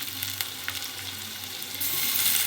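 Tomatoes frying in a hot pan, a steady close sizzle with light stirring scrapes throughout, growing a little louder near the end.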